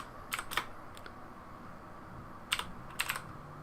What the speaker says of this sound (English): Gosh, my typing today.